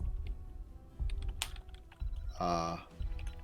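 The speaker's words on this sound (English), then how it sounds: "I'm eagerly anticipating what Ektar is typing here." Soft, sparse keystrokes on a computer keyboard during an online esports match broadcast, faint and irregular, interrupted by a short tonal beep-like sound and low background murmur.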